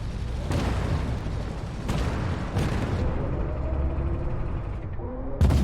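An Object 430 tank's main gun firing in Armored Warfare: several heavy booms spaced a second or more apart, each cutting sharply through a continuous low engine rumble, with a final loud blast at the end.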